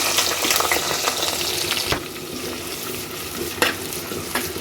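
Chopped ginger, garlic, green chillies and onion sizzling and being stirred in hot oil in a pan, with a continuous loud fry and a couple of sharp scraping strokes of the spoon.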